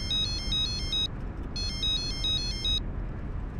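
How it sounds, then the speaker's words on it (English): An incoming call rings through a car's speakers, two bursts of a bright repeating electronic trill separated by a short pause, over a constant low road rumble. "William, you want to answer the call or send it to voicemail?"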